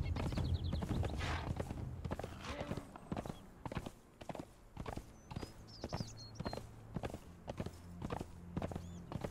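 Hooves of a ridden horse in the survival video game Conan Exiles clip-clop in a steady, even rhythm, fairly quiet over a soft outdoor ambience, with no talking.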